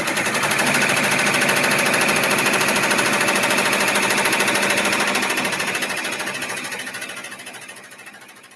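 An embroidery machine stitches a personalized zipper pouch, its needle hammering in a fast, steady rapid-fire rhythm, loud and close, before slowly fading toward the end.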